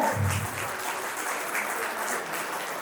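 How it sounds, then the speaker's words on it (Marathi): An audience at a retirement felicitation claps in a steady, even wash of applause that holds throughout without breaks. "टाळ्या जोरात टाळ्या"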